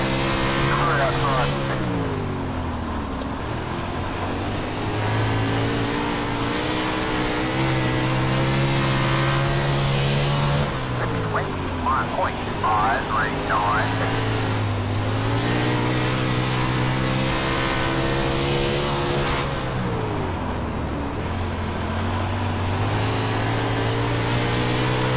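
World of Outlaws sprint cars racing at Williams Grove Speedway in iRacing, a dense pack of engines droning and rising in pitch as they rev, loud and continuous with cars sweeping by, while a commentator talks over the noise.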